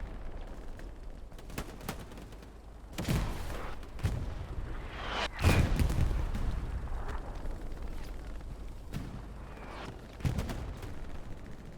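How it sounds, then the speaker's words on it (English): Aerial bombing run on Utah Beach in the World War II shooter Hell Let Loose, a string of heavy booming explosions rolling in over several seconds, with scattered distant gunfire cracks between the blasts. "Bombing run."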